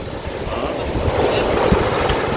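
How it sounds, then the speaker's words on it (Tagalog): Waves crash on a rocky shoreline where someone is fishing, a loud continuous roar of surf mixed with wind buffeting the microphone, close and unbroken throughout. "Mahampas ang dalampasigan."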